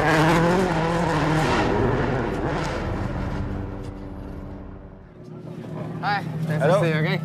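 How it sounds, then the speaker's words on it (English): Rally cars race on the Goodwood Festival of Speed course, engines roaring loudly with rising and falling pitch as they pass. A narrator speaks over the engine noise. "Legendary cars and drivers from across the generations flick and slide around the course"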